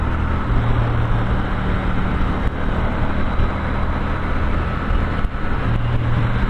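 A 2016 Triumph T120 motorcycle with stock exhaust gives a steady, loud, low engine rumble that holds unbroken from start to finish, with no voices over it.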